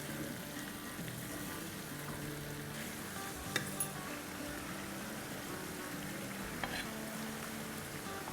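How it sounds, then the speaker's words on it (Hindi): Potatoes frying in a pan with yogurt and spices for aloo kathliyan, a steady soft sizzle with occasional light stirring clinks, fairly quiet throughout. "पहले दही को अच्छे से मिलाएंगे, फिर सारे मसाले के साथ अच्छे से भून लेंगे।"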